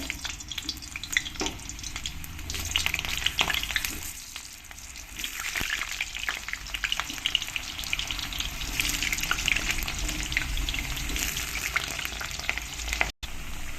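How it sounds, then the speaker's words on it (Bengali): Large whole potato chunks fry in hot oil for a chicken and potato curry, giving a steady, loud crackling sizzle that holds throughout with a few brief stirring knocks and no talk. "এবার আমি এই তেলের মধ্যে যে আলুগুলো বড় বড় গোটা গোটা করে কেটে নিয়েছি আলুগুলো একটু ভালো করে আমি ভেজে নেব"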